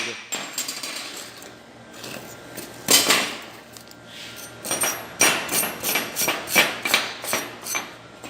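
Chipping slag off a still-hot fresh stick electrode weld: repeated sharp metallic taps and knocks, a hard strike early on and then a quicker run of close chipping blows.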